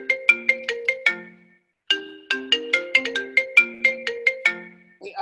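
A phone ringtone plays a bright repeating melody of chiming notes, pausing briefly before starting again, fairly close and clear with no talk over it.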